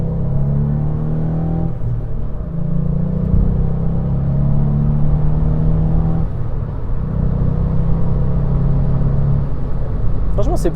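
Engine of a 115 hp Volkswagen Up GTI accelerating, a steady loud droning rumble heard from inside the car with rising and falling tone across a few gear pulls.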